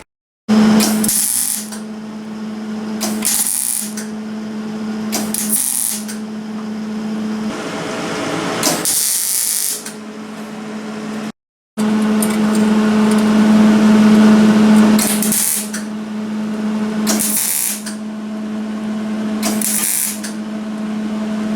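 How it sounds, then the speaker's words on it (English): A gas tank for a Predator 212 Honda-clone engine being welded: rough crackling bursts start and stop repeatedly over a steady electrical hum, loud and close, with one brief silent gap partway through. "Alright, everything's welded up."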